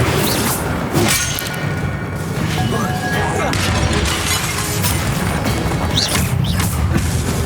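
Incendio fire spells cast repeatedly in Hogwarts Legacy come as several loud whooshing bursts and crashing impacts over a busy rumbling combat backdrop, with a voice speaking at times.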